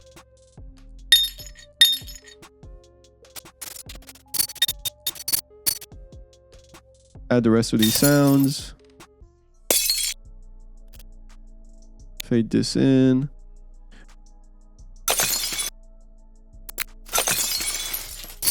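Layered glass shattering effects for a 3D breaking animation come in several separate bright crashes and clinky bursts, some faded in, alternating with a narrator talking between them.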